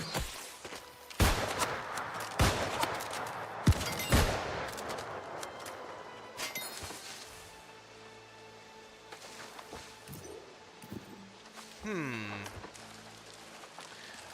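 Enemies shooting at the player in the video game New World: Aeternum, several sharp loud shots and impacts early on, then quieter scattered hits and a rising whooshing effect toward the end.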